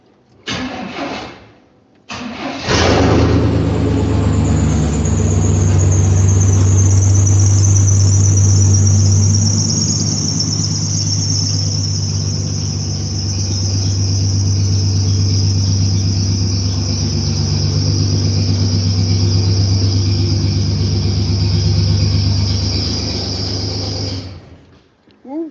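A 1986 square-body truck engine with straight pipes and no exhaust cranks briefly, then fires up and settles into a loud, raw, rumbling idle that holds steady for about twenty seconds before shutting off.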